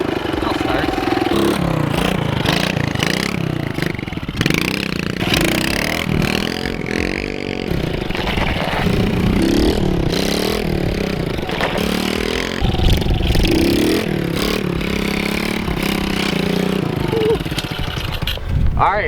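A dirt bike that keeps stalling is restarted and revved, its engine sputtering and rising in repeated bursts up close, while a person speaks now and then.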